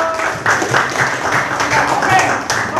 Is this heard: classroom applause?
yes